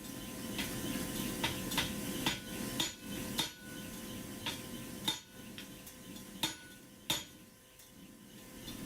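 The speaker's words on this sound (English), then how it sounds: "using a smaller hammer to finish pushing that little point up" A small hammer forging a steel blade strikes sharp metallic taps at an uneven pace, some louder than others, over a faint steady hum in the background.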